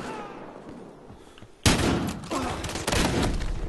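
A shotgun and other gunfire in the video game Battlefield Hardline, during a large Conquest match, burst in suddenly after a quiet lull, then continue as loud, dense shots that keep crackling close by.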